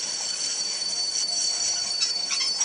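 A video game train pulling into a station, a steady bright metallic squeal of wheels over a rolling rumble, with a few louder flickers near the end and no speech.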